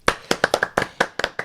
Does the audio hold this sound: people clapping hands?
yes